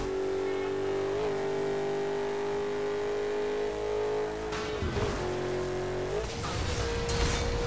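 A car races in Burnout Paradise: The Ultimate Edition, its engine a steady loud drone, broken by two crunching crash and scrape bursts late on. No one talks.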